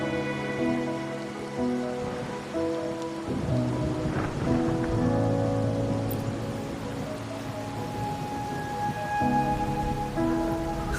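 Steady rain pours in the game Wuthering Waves with rumbles of thunder, a continuous wash under sustained musical tones throughout.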